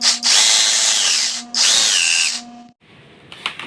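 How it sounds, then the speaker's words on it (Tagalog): A newly unboxed jackhammer is tested, giving two loud, close, droning bursts with a steady motor whine, each over a second long, then a sudden stop into quiet with faint handling noise. "Testing natin yung jackhammer natin."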